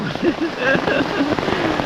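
Rain falls steadily in a continuous hiss and patter, with voices talking over it throughout.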